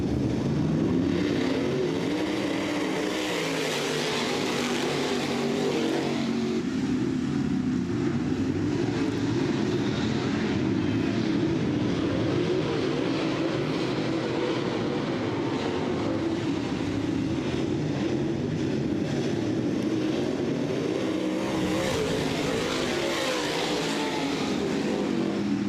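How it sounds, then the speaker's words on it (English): Dirt track late model race cars roar continuously as a pack through a heat race at a southern Ontario speedway, a loud sustained engine drone that swells and fades as the cars pass. "getting ready for our late models to fire it up for heat race number 1"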